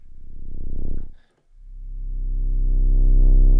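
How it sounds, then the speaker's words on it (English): Mono sub bass synth patch blending sine, triangle and a touch of saw, playing a deep sustained low tone that swells, cuts out briefly, then returns and builds steadily louder with rich harmonics. "So this is like a mono sub. It's got some sine waves, it's got a little bit of triangle, a little bit of saw"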